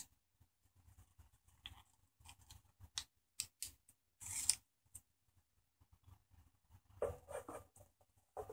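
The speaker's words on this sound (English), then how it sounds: "Cut off the corner, and I can then have an easier time of getting the paper removed." Scissors snip paper during a Nintendo Wii disc drive repair, making faint, close, scattered cuts and crisp rustles with short pauses between them.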